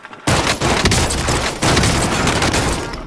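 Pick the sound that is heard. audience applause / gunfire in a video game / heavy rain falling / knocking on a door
gunfire in a video game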